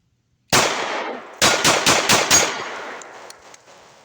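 Diamondback DB9 pistol fired during first shots and a mild torture test: one loud close report, a pause, then a quick string of four or five sharp shots ringing out into decay.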